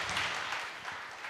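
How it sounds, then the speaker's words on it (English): Audience applause fills a hall at a strategic and security dialogue conference as a session with three speakers closes, a steady, dense clapping that holds briefly at moderate level. "So please give a big round of applause to all the 3 speakers."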